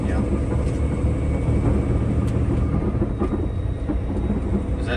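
Wind rushing off the top of the hood of a new Peterbilt 589 truck with a Paccar engine, a dense steady roar with road and engine rumble under it, continuous and loud throughout.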